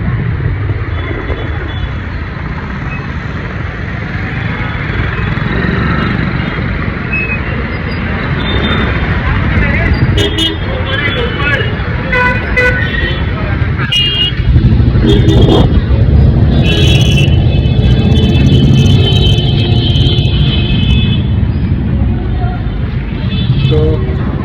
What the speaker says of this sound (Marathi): इथे पूर्ण ट्रॅफिक जमलेला